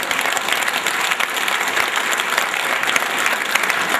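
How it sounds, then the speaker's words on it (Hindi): Steady, dense applause from a seminar audience, many hands clapping continuously and fairly loud throughout, with no talk over it. "देखिए ताली बजानी है तो सारे बजा लो"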